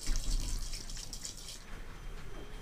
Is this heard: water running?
yes